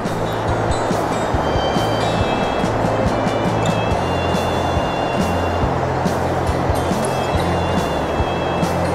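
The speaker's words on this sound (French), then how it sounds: "C'est la petite cascade de Vindel." The small Vindel waterfall on a hiking trail gives a steady, dense rushing roar of falling water, close and continuous throughout, with no voices over it.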